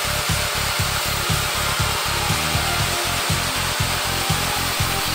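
A woodworking machine cuts shaped beam ends in a continuous loud drone with a rapid, regular chopping pulse beneath it, close and steady throughout.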